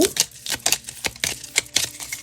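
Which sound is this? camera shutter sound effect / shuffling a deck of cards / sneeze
shuffling a deck of cards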